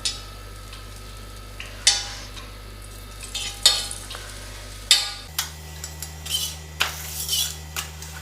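Paratha frying in a little oil on a hot tawa over high flame: a soft steady sizzle with sharp clinks and scrapes of a metal utensil against the pan, close and clear, no voices.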